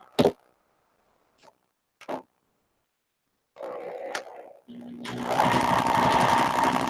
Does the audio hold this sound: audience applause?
no